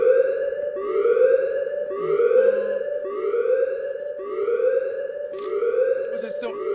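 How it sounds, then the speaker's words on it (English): A looping siren-style alarm blares in a Roblox Backrooms horror game, rising and falling in steady repeated wails, loud and continuous, with brief clicks and game noises over it. "Won't end well for me if I let the alarm stay on."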